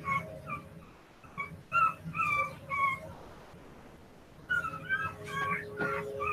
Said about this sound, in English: Oh, what are you fussing about, little baby puppy?